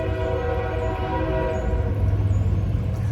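Train rolling past close by, with a sustained tonal horn held over the steady rumble of the cars and rails, loud and continuous.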